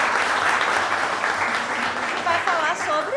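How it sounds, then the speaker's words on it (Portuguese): Audience applause greets a history lecturer at a talk on African-rooted traditions, a dense steady wash of clapping filling the room throughout, with faint voices and a few brief whistles or cries near the end. "Uma salva de palmas."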